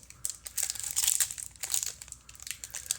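A foil Magic: The Gathering collector booster pack wrapper is torn open and crinkled close up, with bursts of crisp crackling and tearing in uneven handfuls.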